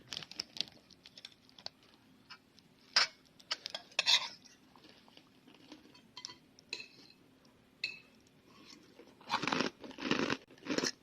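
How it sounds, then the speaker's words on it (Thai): Crunchy food is chewed close up at breakfast, producing faint crisp crunches in irregular bursts, with a denser run of crunching near the end. "กรอบปุ๊บๆเลย"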